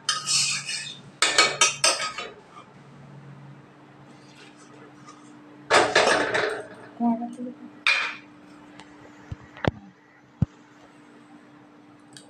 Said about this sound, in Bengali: এবার কড়াটা একটু জল দিয়ে ধুয়ে নিলাম, নাহলে লেগে যাবে আলু আর মশলা।